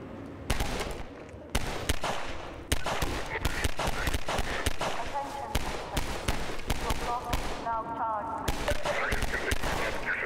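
Sharp gunshots from Half-Life 2 in City 17 crack out in quick repeated bursts, loud and close, with voices talking over the firing.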